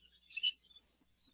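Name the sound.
budgerigar chirping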